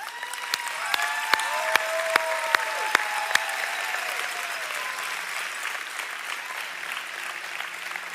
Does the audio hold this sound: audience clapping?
yes